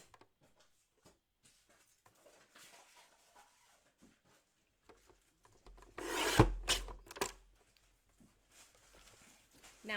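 A pink and green solid paper sheet being trimmed gives faint scattered rasps, then a louder scraping burst partway through before trailing back to quiet rustles.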